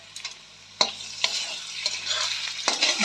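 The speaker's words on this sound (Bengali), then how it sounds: "এই যে পেঁয়াজ ভাজা হয়ে গেছে, দিয়ে দিলাম, লাল লাল করে ভাজা হয়ে গেছে পেঁয়াজ" Onions and spice paste frying in a wok with steady sizzling, broken by several sharp scraping stirs of a spatula at irregular intervals, close and fairly loud, with no talking.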